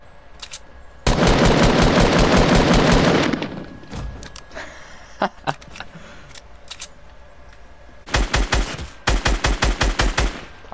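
Video game gunfire in playground mode: a loud, sustained automatic burst lasting about two seconds, scattered single shots, then two more rapid bursts near the end, close and dominant, with no talk.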